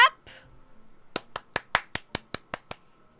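A single person claps about nine times in a quick, even rhythm, sharp close claps following a short burst of noise, during a Final Fantasy XIV livestream.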